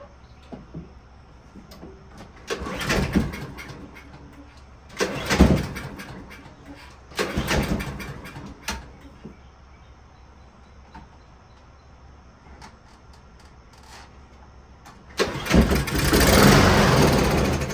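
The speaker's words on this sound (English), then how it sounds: "put starting fluid in, and see if we can get it to crank over" A Husqvarna push mower that will not start, primed with starting fluid, is cranked in several short bursts on the ground. Near the end it catches into a louder sustained run.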